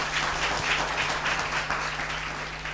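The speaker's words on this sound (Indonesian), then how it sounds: "Oke, tepuk tangan sekali lagi." Studio audience applause on a regional TV youth talk show after a student's third-place national award, steady and moderately loud for about three seconds with a faint low hum underneath.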